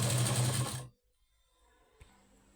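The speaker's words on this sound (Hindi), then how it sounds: "तो इस तरह से पूरे ब्लाउज पर सिलाई लगा लेंगे।" A sewing machine stitches a blouse in a loud, fast, continuous whir for under a second, then stops abruptly, leaving quiet room tone with a faint click afterward.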